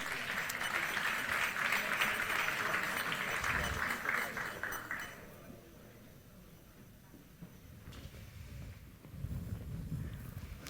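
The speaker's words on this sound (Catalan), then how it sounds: "Un aplaudiment per ells, sisplau." Surgical forum audience applauds for several seconds, dense clapping that thins and fades to quiet room noise, then rises slightly again with faint murmuring and movement at the end.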